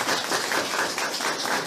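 Applause from an audience at a Limbuwan community gathering in Dhankuta, a dense, continuous patter of many hands clapping throughout.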